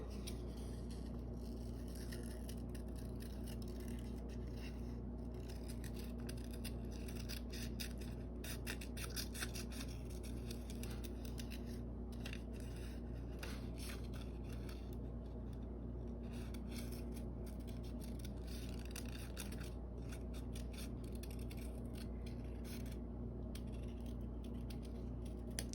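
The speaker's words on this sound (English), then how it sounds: "And then we're going to cut it out." Paper is cut with scissors to shape a handprint turkey, giving a long run of soft, close snipping and rasping strokes over a low steady background hum, with no one talking.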